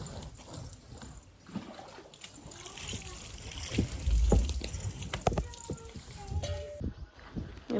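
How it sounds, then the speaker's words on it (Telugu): Cotton cot tape strips are sloshed and dunked in a drum of water, with irregular close splashes and dribbles that grow louder midway, under a background voice. "ఇక్కడ నవ్వార్లు కూడా వాష్ చేసేసి నీళ్ళలో దేవేస్తున్నాను"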